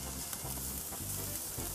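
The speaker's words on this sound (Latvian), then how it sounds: "Un turpinam cepšanu." An eel sizzles and fries steadily on a grill over a campfire at an outdoor picnic, a dense continuous crackle close up with no voices.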